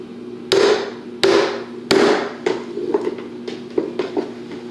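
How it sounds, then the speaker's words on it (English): A small plastic cap tapped onto a nut on a ride-on wiggle car: a few sharp knocks, the first three loud and evenly spaced, followed by softer, quicker taps fading out, with no talk. "Cap in that hole and just give it a tap."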